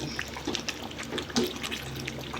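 Water is poured into a cooking pan for rava khichdi in a close, steady splashing stream with small bubbling splashes.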